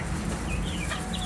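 Buff Orpington chicks in a large brooder give soft, quiet peeping and clucking chirps over a faint steady background hum, brief and fairly low in level.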